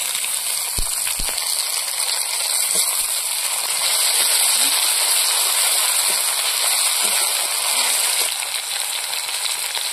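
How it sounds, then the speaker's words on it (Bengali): Onion frying in a pan for a green banana fish curry, a steady broadband sizzle and hiss running evenly throughout with a few faint clicks, no talking over it. "এবার পেঁয়াজটা ভেজে নেব।"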